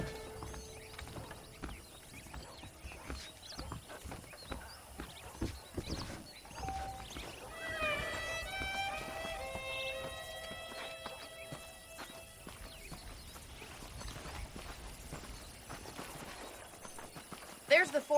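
A horse's hooves clip-clop at a walk while being ridden in Red Dead Redemption, steady and close. Someone talks over it and music plays faintly, with a brief louder bump at the end.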